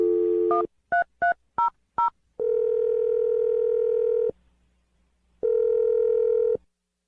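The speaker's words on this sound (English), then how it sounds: "I'm going to dial the phone number right now." Telephone dial tone briefly, then a quick run of six DTMF keypad beeps, followed by two long steady ringback tones with a pause between them, clear and close on a phone line.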